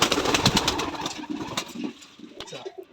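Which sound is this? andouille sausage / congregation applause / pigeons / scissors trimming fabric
pigeons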